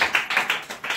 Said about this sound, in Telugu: చప్పట్లు కొడదాం దేవుని.